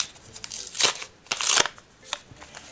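A small paper packet of sticker patches from a homemade paper surprise is torn open up close, producing several sharp crinkling bursts separated by brief quiet gaps.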